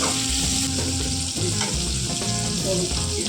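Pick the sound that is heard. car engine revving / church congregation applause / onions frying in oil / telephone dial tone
onions frying in oil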